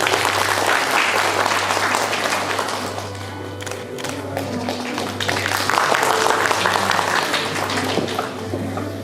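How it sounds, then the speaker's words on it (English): Audience applause at a National Voters' Day ceremony, loud sustained clapping from a large crowd over a steady low hum, continuing unbroken for about nine seconds. "I request one and all to please give a big round of applause."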